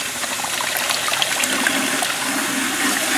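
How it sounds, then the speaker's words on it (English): Pressurized water is forced into new aquarium sand substrate, making a steady loud rushing, hissing gush with bubbling and trickling throughout and no pauses. "I'm gonna try to put some pressurized water in it and just like stick it in like an under gravel filter"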